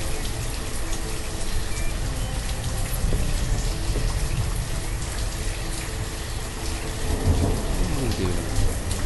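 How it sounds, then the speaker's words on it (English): Steady heavy rain with rolling thunder fills a rural town scene in the city-building game Banished, a constant loud wash of downpour throughout, with a brief spoken question over it. "And it's raining. Isn't rain wonderful?"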